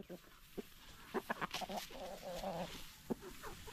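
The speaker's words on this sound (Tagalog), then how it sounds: "Kayo namang mga tandang. Hoy, mga tandang. Makinig kayo." Free-range roosters and chickens cluck in short, scattered bursts close by, with a faint background hum and no clear talk.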